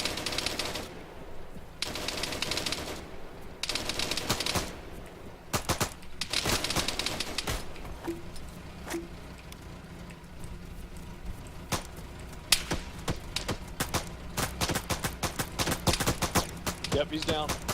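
Automatic gunfire from an ambush drill in the Arma 3 military game, with repeated bursts and scattered single shots, some bursts clustered and loud, others fainter, over a steady background with occasional voices.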